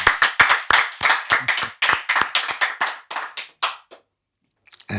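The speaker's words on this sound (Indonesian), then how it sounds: "Tepuk tangan buat Mayor Jenderal Edi Nalapraya." A small audience claps in a room, a quick series of sharp close hand claps with irregular rhythm lasting about four seconds, then a brief pause before a few scattered claps.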